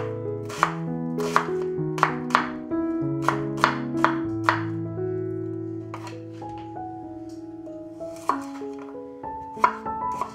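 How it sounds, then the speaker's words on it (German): A knife dices a garlic clove into small cubes on a cutting board: a steady run of sharp, close chops over sustained background music, with a few short pauses. "Die schneiden wir in kleine Würfel."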